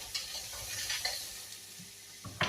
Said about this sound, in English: Just give them a little stir through